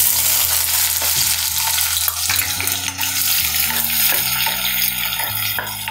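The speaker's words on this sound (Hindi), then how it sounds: "प्याज को हमें लगातार चलाते हुए भूनना है।" Finely chopped onions fry in oil with whole spices such as cardamom while being stirred constantly, making a loud, continuous close sizzle broken by repeated scraping clicks of the spoon.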